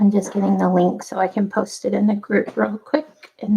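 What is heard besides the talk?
No everyday noise stands out behind the speech.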